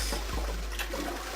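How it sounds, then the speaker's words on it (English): A toilet flush from the video game 9 Hours, 9 Persons, 9 Doors: a brief gurgling rush of water over a low hum, heard alone without speech. "I heard a loud flushing."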